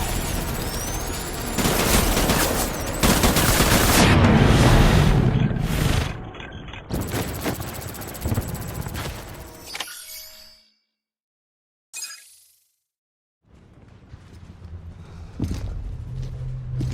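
Heavy gunfire in the video game Death Stranding Director's Cut, with loud overlapping bursts and booming shots in the first half, then quieter scattered shots, a sudden silence and low rumbling afterward.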